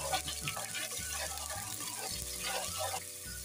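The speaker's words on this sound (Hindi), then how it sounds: "अब अदरक लहसुन पेस्ट शामिल कर दें और हल्का सा फ्राई करें।" Ginger garlic paste with cumin frying in a pan for mash dal, a steady soft sizzle running throughout with faint stirring clatter.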